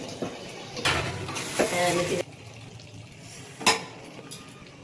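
Meat is stir-fried in a pan for kosha, with bursts of spatula scraping and metal clatter over a low sizzle, including a long noisy stretch early on and a brief sharp clank later.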